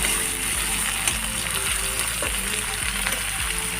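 Potatoes and cauliflower fry in a little oil with spices, giving a steady, close broadband sizzle with faint scraping stir clicks running through it.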